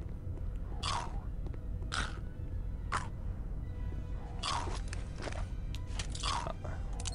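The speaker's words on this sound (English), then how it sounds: "And you're just munching on your meal." Creature munching on a meal in a Star Wars Jedi video game: a series of crisp, crunching bites in separate bursts over a steady low ambient hum, with a short pause mid-clip before the chewing resumes.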